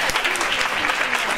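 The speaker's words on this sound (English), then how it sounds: "Would you give her a round of applause, please?" An audience at a domestic violence awareness event claps in a dense, sustained burst of applause that fills the room.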